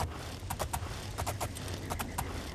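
Horse hooves clip-clopping through the streets of a city in the video game Oblivion, quick sets of hoof strikes in an uneven trotting rhythm over steady ambient noise, moderately near.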